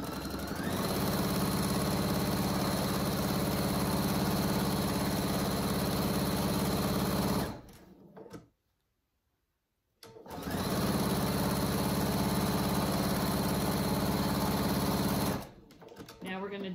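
A sewing machine runs a half-inch seam along the long side of a cat carrier cover in two steady, loud stretches of whirring stitching separated by a brief silence.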